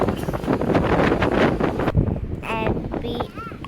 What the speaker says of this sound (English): so much wind was coming